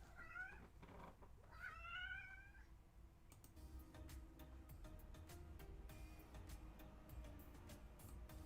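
A domestic cat meows twice in quick succession, close and clear, in a quiet room. Afterward comes a faint run of soft clicking and ticking.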